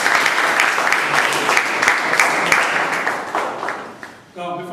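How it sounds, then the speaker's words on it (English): Audience applause after a tribute to a Sergeant at Arms at a club meeting, a dense, steady wash of many hands clapping that fades near the end as a voice begins. "Let us give him a big round of applause."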